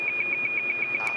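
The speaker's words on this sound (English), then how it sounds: "It's our fire alarm inside." A fire alarm sounds inside a TV studio during live derecho storm coverage, a steady high tone pulsing in rapid, evenly spaced beeps over a low background hum.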